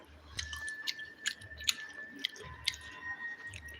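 Close, soft chewing and squishy bites of rice mixed with sambar and fried fish, a string of quiet wet mouth sounds with faint crunches, no talking.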